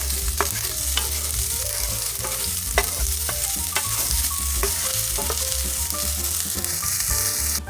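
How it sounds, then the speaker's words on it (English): Onion sautéing in olive oil in a heated saucepan gives a steady, close sizzle with small crackles and pops throughout, with no talking. "We're going to add in our onion. You want to let that saute for 2 minutes."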